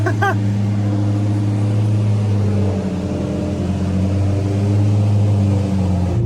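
A BMW Z8 drives with a steady, loud engine drone that holds throughout, its pitch shifting slightly as it moves, with no talk over it.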